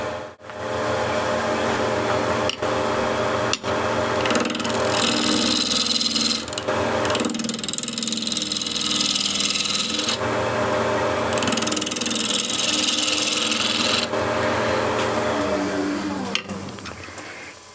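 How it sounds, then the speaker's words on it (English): A wood carving gouge being sharpened: a loud, sustained motorized whine and grinding hiss, running in long bursts separated by short pauses and sharp clicks. "Now I do need to sharpen the gouge."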